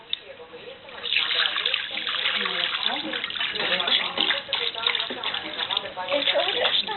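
Milk pours in a steady splashing stream into a bowl, close and continuous for several seconds.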